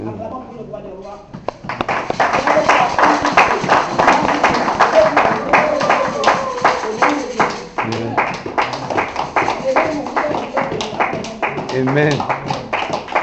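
A church congregation claps in a steady rhythmic beat and cheers in praise, loud and close, with voices calling out amid the clapping.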